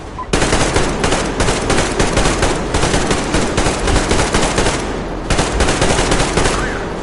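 Sustained covering gunfire in a tunnel battle, rapid automatic bursts crackling continuously and loudly for several seconds with a brief lull partway through.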